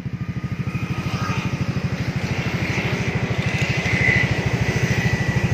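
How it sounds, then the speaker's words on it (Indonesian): Yamaha NMAX scooter with its stock exhaust bored out, idling at a workshop: a steady, soft, rapid low putter with even pulses throughout, close and fairly loud, no talking. "Knalpot ori dibobok"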